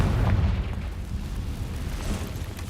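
A Confringo spell blasting in Hogwarts Legacy, a loud booming explosion with a heavy low rumble that lingers and rolls on throughout.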